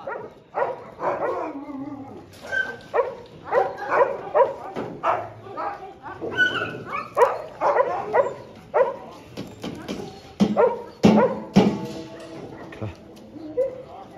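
A pack of more than twenty stray dogs barks, yips and whimpers at feeding time in a mountain setting, with overlapping, repeated outbursts close by and a person talking throughout.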